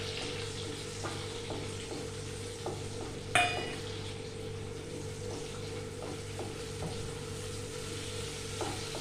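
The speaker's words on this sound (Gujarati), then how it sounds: "અહીંયા મેં તેલ ગરમ કરવા મૂક્યું છે, એમાં આપણે ટમેટોઝ નાખી દઈએ અને સાથે લીમડાના પાન બી નાખી દઈએ." Tomatoes and curry leaves fry in hot oil with a faint, steady sizzle, scattered soft pops and one brief clatter of a utensil in the pan.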